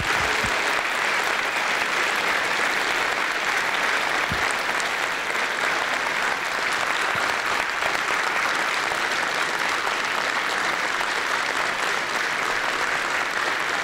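Sustained audience applause fills a room at a talk-show style introduction of a guest, a dense even wash of clapping that holds steady and loud for the whole stretch with no voices on top.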